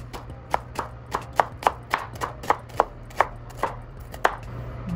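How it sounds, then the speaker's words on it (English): A knife chops onions thinly on a cutting board in a steady series of sharp, close taps, about fifteen strokes at an even rhythm over a low background hum. "So I'm gonna chop up these onions"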